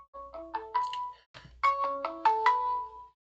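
A melodic phone ringtone plays two runs of rising and falling electronic tones, with a short gap between them, clear and fairly close, with no talk over it.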